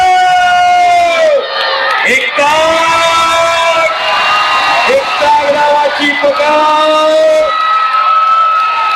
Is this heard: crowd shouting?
yes